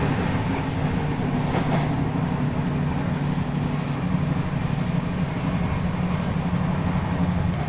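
The Kranti Rajdhani Express rolls at speed while passing the Paschim Express on a parallel track, a constant loud rumble with faint clickety-clack of wheels, heard from inside a 3 AC coach.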